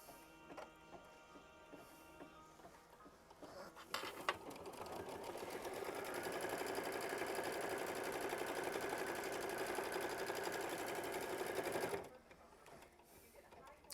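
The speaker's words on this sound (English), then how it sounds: "we're going to sew that down" A sewing machine runs steadily for about eight seconds, stitching down quilt block pieces for a flower bouquet block, with quieter handling sounds before and after the continuous whir.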